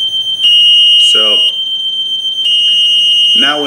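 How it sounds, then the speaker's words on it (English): A chute fire alarm sounds at a building's fire control panel as a loud, steady, high electronic tone held almost unbroken, with a few short spoken words over it. "the message on the screen, it's a chute fire alarm"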